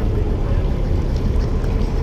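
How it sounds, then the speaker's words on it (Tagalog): Boats idle and run on the water near a rocky fishing spot, heard as a steady low engine rumble mixed with wind buffeting the microphone, continuous and close. "Yan ay mga bangka mga master oh."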